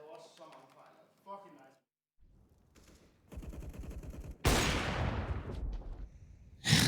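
Gunfire from a Counter-Strike replay during an IEM Cologne 2021 quarterfinal esports broadcast: after brief talk, crackling bursts build into a loud, sharp shot with a long ringing decay, followed by another burst at the end.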